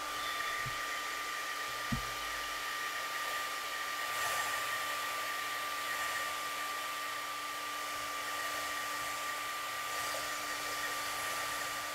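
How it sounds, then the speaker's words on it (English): A hair dryer blows steadily with a constant whirring hum and airy rush, continuous throughout with only slight shifts as it moves. "Okay, so that's it for the hairdryer."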